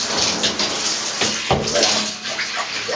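Running water rinses henna out of hair, a loud steady splashing stream with bursts as the flow hits and shifts, with no talk over it.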